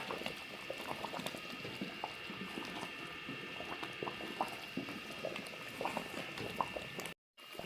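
Strawberry halwa bubbling and sputtering in a pan as ghee is poured in bit by bit, a steady close boiling crackle with small pops throughout and a brief dropout near the end.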